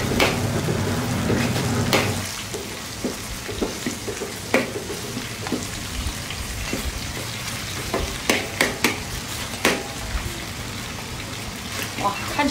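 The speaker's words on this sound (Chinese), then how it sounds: "给它小火炒出红油" Sichuan spicy sauce stir-frying over low heat, a continuous close sizzle with frequent sharp scrapes and taps of a spatula against the wok, louder stirring early then steadier crackling.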